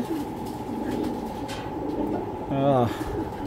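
A male racing pigeon of Belgian bloodline coos in low, throaty murmurs close by, ending in a louder rising coo, over a steady background hum.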